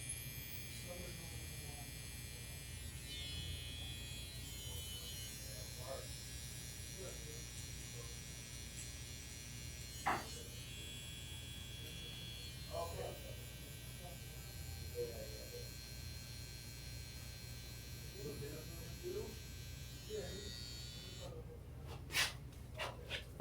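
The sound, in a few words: electric hair trimmer buzzing during a low fade haircut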